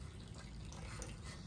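Water pours steadily into small cups, a continuous splashing trickle with faint dripping that runs without a break and stays close and fairly quiet.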